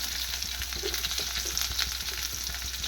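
Onions and green chillies fry in a pan with a steady, close, even sizzle that holds throughout, with no voices.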